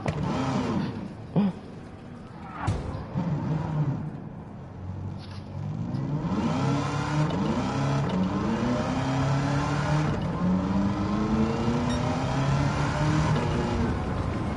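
A 1969 Corvette with a swapped, supercharged engine in Gran Turismo 7 is floored hard, its engine climbing through repeated revving sweeps and gear changes, loud and steady throughout with no talking.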